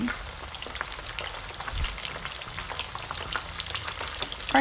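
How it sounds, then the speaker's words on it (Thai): Chicken wings sizzle and crackle in hot palm oil in a pan, a steady close frying hiss with scattered pops and a faint stir partway through; no one speaks. "กระทะต้องร้อน น้ำมันต้องเดือดนะคะ แล้วใส่ปีกไก่ลงไปทีละชิ้น"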